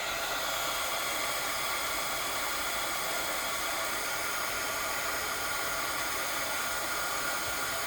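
Embossing heat tool blowing hot air over an embossed die cut: a steady, unbroken hissing roar of air held at even volume throughout, close by with no talking.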